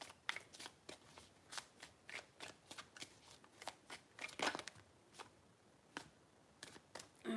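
Tarot cards are shuffled by hand in a quick, crisp series of riffling flicks and soft slaps, repeated in short regular bursts, faint and close with no talking.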